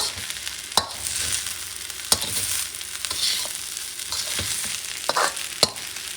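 Rice and vegetables for a Thai dish are stirred in a pan with the heat off, giving a soft sizzle broken by sharp scrapes and clacks of the utensil against the pan every second or so.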